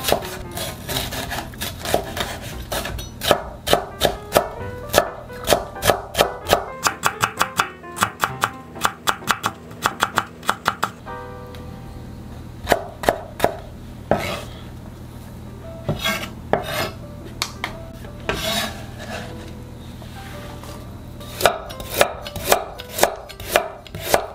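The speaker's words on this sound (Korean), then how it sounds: "부추도 한 2cm 정도로 작게 자르세요." A knife chops chives into short pieces on a cutting board, sounding as rapid crisp taps in quick bursts with brief pauses, close and clear, with no talking.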